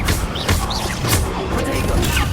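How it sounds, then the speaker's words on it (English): Incendio fire spell from Hogwarts Legacy, a loud burst of crackling, whooshing flame effects with sharp impacts, repeated in quick bursts across the moment at close range with a busy game soundscape underneath. "Incendio."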